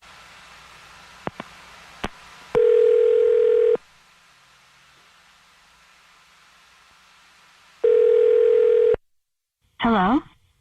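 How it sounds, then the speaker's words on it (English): A telephone line with two long steady dial-tone bursts separated by quiet hiss, a few clicks before them, and a brief warbling tone at the end, heard close through the handset. "I'm going to dial the phone number right now"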